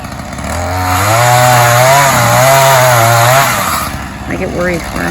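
A chainsaw trims a felled tree, its engine roaring loud and close with a wavering pitch for several seconds before easing back to a lower, uneven idle.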